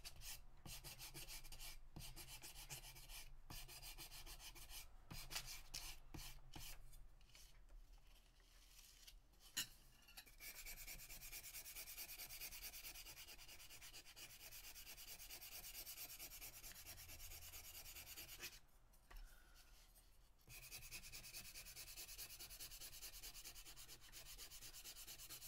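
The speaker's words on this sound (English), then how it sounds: "I burnish over where I drew" A metal ruler burnishing over a pencil drawing for carving stamps, a faint, steady scraping rub that continues for long stretches with brief pauses, close and quiet, with no talking.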